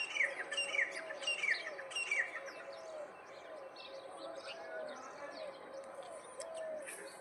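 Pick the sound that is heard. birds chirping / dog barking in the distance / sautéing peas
birds chirping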